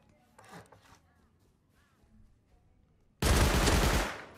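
A single loud burst of gunfire from the video game Rust Console Edition, lasting about a second near the end and following quiet, faint talk.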